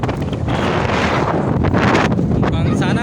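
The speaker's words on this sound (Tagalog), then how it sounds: "napakalakas na ng hangin" Strong wind buffets the microphone in loud, roaring gusts that swell and ease over a few seconds.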